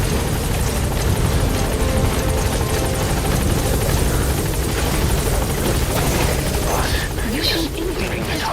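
A helicopter in the video game Metal Gear Solid V sounds loud and steady throughout, its rotor chop and engine drone filling the scene with a thick, continuous wash.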